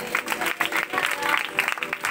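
Rhythmic clapping from a congregation at a Christian revival blessing meeting in Ravikunta, a fairly loud pulsing beat of many hands without speech.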